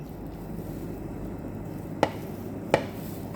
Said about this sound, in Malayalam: ചോറ് തട്ടി കൊടുക്കാം.